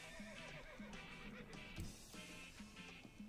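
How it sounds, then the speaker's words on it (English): A horse neighs and whinnies repeatedly in the online game Tera, the calls rising and falling with clip-clop hoofbeats and game ambience underneath, fairly close and evenly loud. "There's actually a lot of horses into this game."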